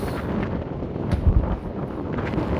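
Strong wind buffets the microphone on Mulranny Golf Club, a links course in Ireland, with a steady low roar and a heavier gust midway through; no one speaks.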